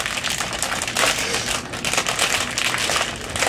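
Packaging for a Christmas item crinkling and rustling as it is handled and opened, a steady close crackle of plastic or paper without pause.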